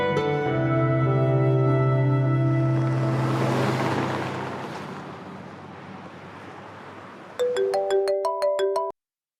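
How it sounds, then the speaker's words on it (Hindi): A telephone ringtone plays a sustained melodic tone that fades into soft noise, then a run of crisp, evenly spaced ring beeps ends abruptly, heard in a television drama scene with no talking. "मैं अभी उसको फोन करके बता देती हूँ।"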